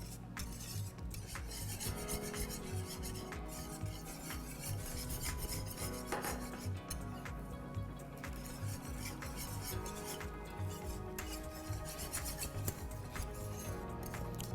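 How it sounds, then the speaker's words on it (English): Scrambled eggs with a touch of mayonnaise stirred steadily in a pan, a soft continuous scraping and rubbing of utensil against the pan, with faint clinks and no voices. "And you keep stirring all through. You don't want it to set or to clog into one place."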